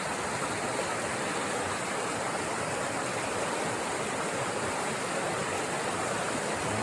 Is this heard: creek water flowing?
yes